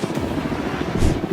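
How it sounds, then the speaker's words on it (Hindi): A helicopter over a private island, carrying people who jump from it, gives a steady, loud rotor and engine roar that fills the whole moment and swells slightly near the end. "ये हेलीकॉप्टर हमारे बॉयज को ऊपर हवा में ले जाएगा"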